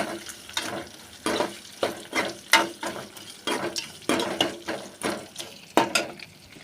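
Onions sauté in oil in a pan as a Tamil-style dosa batter is prepared, sounding like a soft, constant fry broken by regular scraping strokes of a spatula, fairly close and with no voices.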